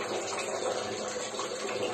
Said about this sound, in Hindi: नल को अच्छे से बंद करो, पानी को अच्छे से बंद करो।